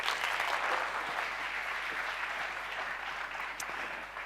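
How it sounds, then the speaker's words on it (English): Sustained audience applause at an awards ceremony during a mentalism act, a steady dense wash of many hands clapping that holds evenly throughout without speech. "Just give him a random applause again."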